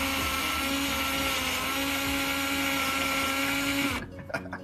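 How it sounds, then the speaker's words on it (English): Electric drill spinning a potato against a handheld peeler gives a loud, steady whirring drone for about four seconds, then cuts off, followed by a few faint clicks and knocks. "Take an electric drill, get your potato, get a peeler,"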